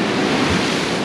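Ocean waves break on the coastal rocks at Bodega Bay, California: a loud, close, continuous roar of surf and rushing water with wind noise, and no voices.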